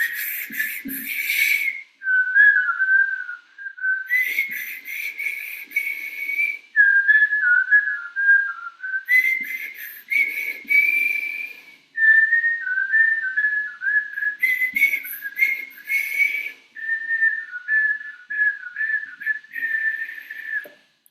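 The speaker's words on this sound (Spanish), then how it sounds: "Vas a silbar hacia adentro y vas a silbar hacia afuera" Long stretches of breathy, airy whistling, alternating in and out in repeated phrases with brief pauses between them, close and fairly loud.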